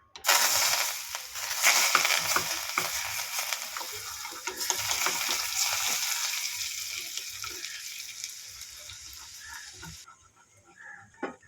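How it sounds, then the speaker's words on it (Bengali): Chili powder hits hot oil in a pan while cooking a Chinese-style potato dish, producing a loud, dense sizzle that starts abruptly and gradually fades, with faint stirring clicks and scrapes. "এখানে তেল ফুটিয়ে নিয়েছে লঙ্কা গুঁড়ো দিয়ে দেবো"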